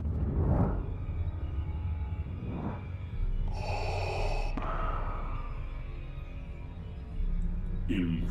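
Darth Vader-style mechanical breathing imitated by a voice, slow inhale and exhale cycles repeating over steady background sound, close and fairly loud.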